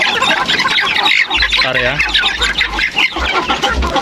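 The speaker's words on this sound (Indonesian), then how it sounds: "Ini ayamnya udah kelaparan bro." A crowd of hungry month-old free-range village chickens squawk and cluck loudly at close range in a constant overlapping chorus, with someone speaking briefly over them.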